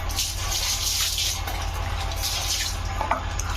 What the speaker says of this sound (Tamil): இப்போ இதை நம்ம தண்ணி ஊற்றி நல்லா வாஷ் பண்ணிக்கலாம்